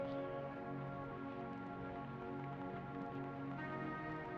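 Rain falling steadily over a lush rainforest hotel in Belize, a continuous even patter and wash with no breaks, moderately loud and heard on its own.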